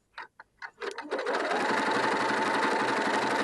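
A sewing machine stitching rows of shirring elastic into fabric starts with a few separate clunks, then runs at a fast, steady, loud mechanical whir close by.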